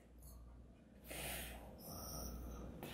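A child mimics a father's snoring with two or three rough, snorting breaths, each a burst of airy rasp, soft and close-up with gaps of quiet between.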